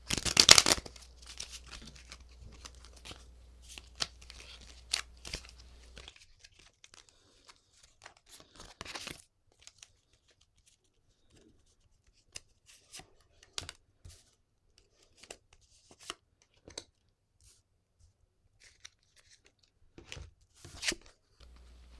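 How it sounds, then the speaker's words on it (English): Cards are shuffled and drawn for an ethics-themed card reading. Crisp papery snaps, slides and scattered clicks come up close, with a dense burst at the start and then sparse handling noises between silences. No speech. "And I will draw 3 cards."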